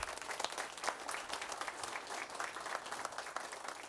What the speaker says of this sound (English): Let's give one last round of applause to our swimmers.